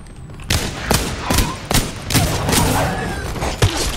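Gunfire in Apex Legends: sharp, loud shots crack out in irregular bursts about every half second, echoing over a rumbling game background.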